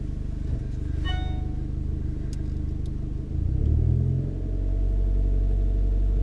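A manual-transmission car idles with a loud, steady engine rumble, then the revs climb partway through as a learner works the clutch and gas, holding a deeper, louder drone to the end.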